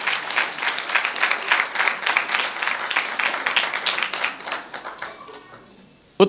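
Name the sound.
congregation applauding in a sermon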